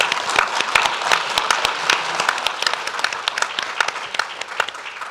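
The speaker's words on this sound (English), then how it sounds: "We can clap now." Audience applause following a panel discussion at a Privacy Day event on artificial intelligence in the public sector, a steady burst of clapping from a modest crowd with individual sharp claps standing out, fairly close and sustained throughout.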